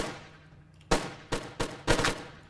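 Four sharp gunshots from a Steam co-op video game, the first alone and the last three coming faster, loud and close over a quiet background.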